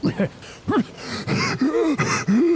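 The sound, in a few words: voice imitating a character gasping for air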